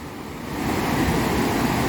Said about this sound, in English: This waterfall isn't nearly as big as Sahaley, where I was last week.